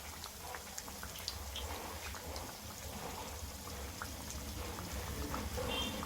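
Chili bajjis frying in hot oil give a soft, steady sizzle scattered with small pops and crackles, fairly quiet and with no talking.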